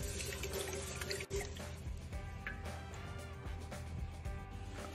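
Faucet water pouring and dripping while wild rice is rinsed, a steady close splashing flow with a brief clunk early on.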